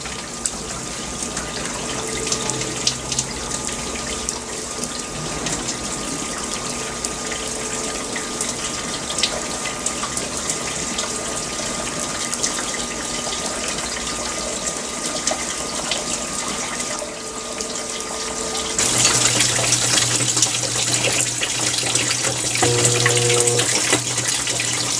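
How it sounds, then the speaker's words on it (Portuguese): Consul 16kg washing machine (CWL16AB) filling with water for its second rinse on a white-clothes cycle, a steady broad rush of running water with a pump-like hum that grows louder and fuller toward the end. "começou agora a encher para fazer o segundo enxágue"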